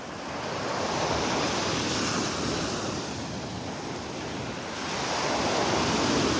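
Ocean surf rolling onto a beach in North Naples, Florida: a continuous broadband wash that swells and eases, mixed with wind buffeting the microphone, with no voices.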